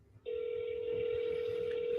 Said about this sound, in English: It's calling me, and we're going to make some phone calls.